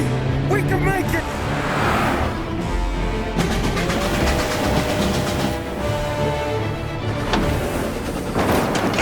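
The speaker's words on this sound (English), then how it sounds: "He's trying to beat the train!" Train passing in the Mafia: Definitive Edition video game, a loud continuous rumble with rhythmic clattering and roaring car engine noise layered over it, sustained throughout.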